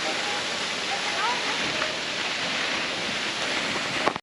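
A waterfall in Lachung, North Sikkim, roars in a constant, dense rush of falling water, close and loud, with a voice faintly audible beneath it.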